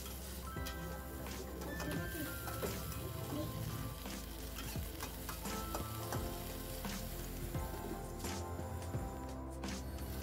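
Bean sprouts and tempeh are stir-fried in a pan with a little added water. A continuous soft sizzle runs under frequent scraping and stirring clinks from close by, with no talk.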